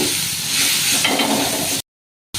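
Curry leaves and onion sauté in a pan for a prawn roast, making a dense, loud, even sizzle that cuts off abruptly and resumes briefly.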